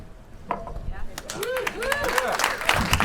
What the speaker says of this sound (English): Thank you, mostly female applause